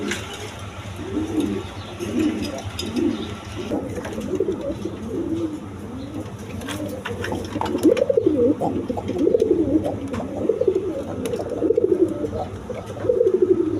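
Several healthy pigeons at a sale coo in repeated throaty rolls, overlapping and close, growing louder and busier over a low background hum.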